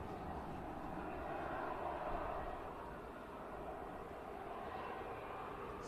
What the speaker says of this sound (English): aircraft are on the move. The first one to Dalaman and the second to Mykonos.